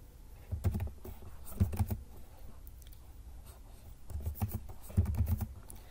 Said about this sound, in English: for the installation of React Helmet, we should write